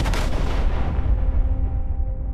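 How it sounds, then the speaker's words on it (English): A bomb detonates under a manhole cover in a test. A heavy low-end blast rumbles and then fades away over about two seconds. "When everything was ready, the bomb was detonated."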